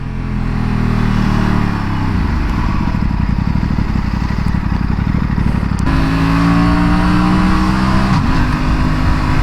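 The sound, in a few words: Aprilia RS 457 motorcycle engine with no exhaust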